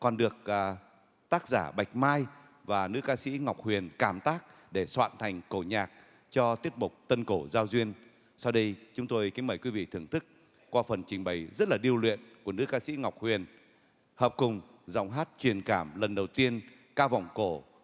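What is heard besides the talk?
No everyday noise stands out behind the speech.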